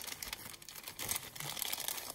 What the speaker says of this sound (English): I'll just tear it my normal way